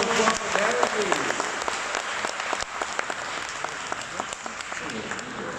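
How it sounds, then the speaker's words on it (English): Audience clapping after a talk on documenting Singapore's built environment: dense, steady applause that carries through the whole stretch, fairly close and loud. "Give a one more round of applause for Darren, please."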